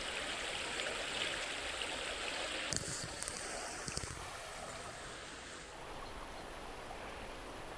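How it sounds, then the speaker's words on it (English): Steady broadband rush of flowing water, like a nearby creek running continuously, with a few faint clicks partway through and no voices. "the creek is right here, so give me something nice to listen to tonight as well"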